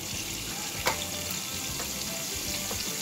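Garlic-ginger paste frying in hot oil for chicken onion karahi, giving a dense, continuous sizzle with a faint clink of a spoon, and no voices.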